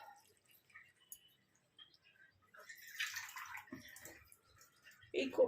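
Water from a tap rinses a metal spatula in a home kitchen, with intermittent splashing and trickling that grows louder toward the end, along with a few drips and clinks.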